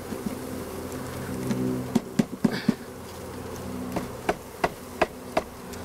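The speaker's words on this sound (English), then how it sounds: "it is much easier to get the bees into the hive" A steady hum of many honeybees buzzing nearby, punctuated by a series of sharp knocks and taps on wood.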